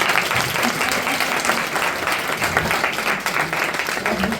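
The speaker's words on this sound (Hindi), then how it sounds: "इस वजह से तालियां हो जानी चाहिए फिर से" Audience applause at a satsang, a thick, sustained burst of many hands clapping, loud and close, with a faint murmur of voices mixed beneath.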